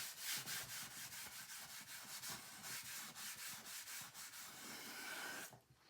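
Wax being rubbed by hand into a wooden Victor phonograph horn, rhythmic close strokes roughly every third of a second, quiet but clear, stopping just before the end with no talk.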